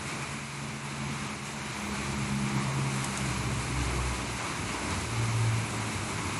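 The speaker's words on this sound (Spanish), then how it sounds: "acá también ya empezó a llover fuerte" Heavy rain pouring steadily outdoors as a constant dense wash of noise, swelling slightly louder partway through, with no talking.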